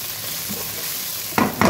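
Onions frying in a pan for a Lebanese-style dish, a steady close sizzle ending in two louder bursts as the onions are stirred.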